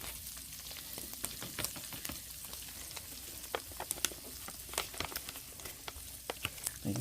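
Ground meat sizzling in an electric skillet for tacos, a soft continuous crackle with frequent sharp pops and spatters, close and alone.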